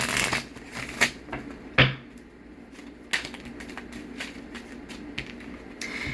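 Oracle cards being shuffled by hand, with a few sharp riffles and slaps early on followed by softer, repeated card-on-card brushing, close and fairly quiet.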